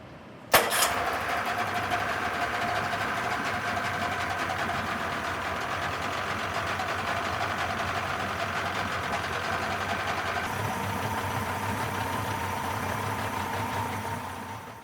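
A Yamaha 90 outboard boat motor idles steadily with a constant, even drone and a faint mechanical rattle, close and continuous throughout after a brief click at the start, with no talking.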